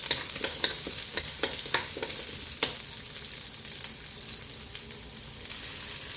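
Onions fry in hot oil in a pan with a steady, close sizzle, and sharp stirring scrapes and clacks come through at irregular intervals.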